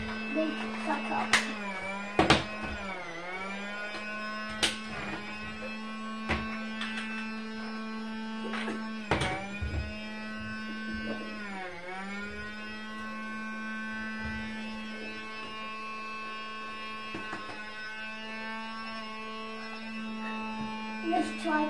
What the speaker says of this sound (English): Let's try another hoover. This one's not very good at sucking.